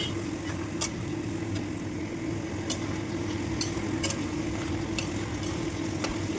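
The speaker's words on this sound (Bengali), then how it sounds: "মুরগির মাংসটা দিয়ে ভালো করে নাড়িয়ে চাড়িয়ে" Chicken meat frying in a pan and being stirred, a steady close sizzle with occasional sharp scrapes of the utensil against the pan, with no talk.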